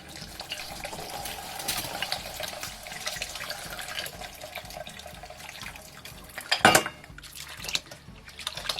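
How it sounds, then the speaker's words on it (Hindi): Ice-cold water is poured into reduced Kashmiri chai in a pot, a continuous trickling splash with a louder gush near the end, close and clear. "अब हम इसमें ये ठंडा पानी डालेंगे।"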